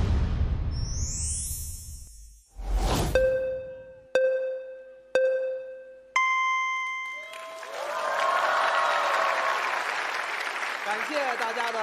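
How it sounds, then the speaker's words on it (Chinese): On a comedy competition stage at a crosstalk final, a rising musical sweep and a series of bright chime stings give way to sustained, full audience applause that fills the last several seconds. "感谢大家的掌声鼓励"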